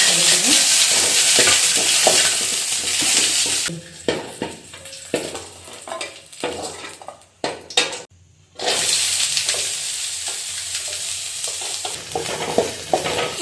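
Onion, garlic and dried chilli sizzle in a pan for a home-style Kannada bassaru, with loud broadband frying interrupted midway by a few seconds of quieter stirring and scraping before the steady sizzle returns.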